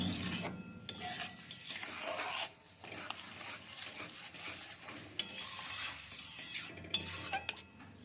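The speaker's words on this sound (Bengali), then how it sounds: "এবারে ফুটবে আর এটা অনবরত নাড়তে হবে" A thick mung dal dough mixture stirred continuously in a pan, with rough scraping and rubbing strokes against the pan bottom and a faint sizzle underneath, close and fairly quiet, no speech.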